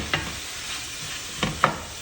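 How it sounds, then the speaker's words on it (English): Vegetables frying in a pot for fried pinto beans with backfat, a close, steady sizzle with three sharp scraping stirs of the pot, one near the start and two near the end. "except for the veggies that we're frying down here"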